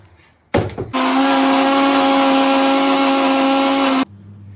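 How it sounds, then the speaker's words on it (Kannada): Close, loud whirring of a kitchen mixer grinder blending coconut masala with a couple of spoons of spice powder added, a short knock and then about three seconds of steady motor drone that cuts off sharply. "ಮತ್ತು ಮಿಕ್ಸಿ ಮಾಡ್ಕೊಬೇಕು"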